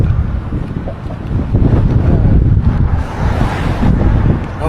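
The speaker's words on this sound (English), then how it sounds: "This wind is like blowing all the debris into my face." Strong wind buffets the microphone of a cyclist riding along a road, a loud continuous roaring rumble that surges and eases with gusts, with no speech.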